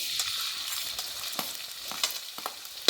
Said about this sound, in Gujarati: તેલ આપણું ગરમ થઈ ગયું છે તો પેલા ડુંગળીને નાદુ નાખી દઈશું